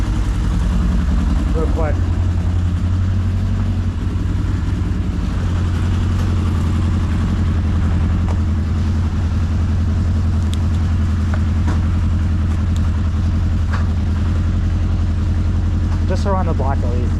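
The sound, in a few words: 1981 Honda CB900 motorcycle engine running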